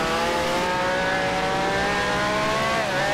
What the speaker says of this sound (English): Judging by the noise of the engine.